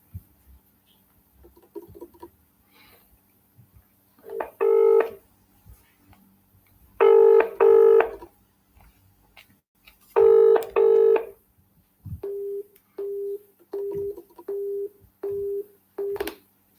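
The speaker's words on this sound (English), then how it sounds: "it was ringing through, and then his line went busy" A telephone call to a UK mobile number: a few keypad tones, then two double-ring ringback pairs, then a steady run of evenly spaced busy-tone beeps, all clear and close on the line.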